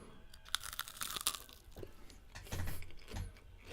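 Cheddar jalapeno poppers from Sonic are crunched and chewed up close, sharp crisp bites followed by softer chewing, with no talking.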